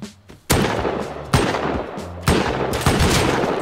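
Pistol gunfire in the survival game Rust, with loud, close shots cracking out one by one roughly every half second to second, each trailing into a long echoing decay.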